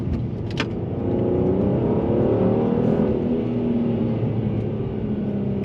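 Mercedes-Benz E450 with all-wheel drive accelerating up a hill, a steady, loud engine drone and road rumble from inside the car that builds gently as it climbs.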